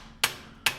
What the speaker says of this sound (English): I plan to tap the top of the tool with a hammer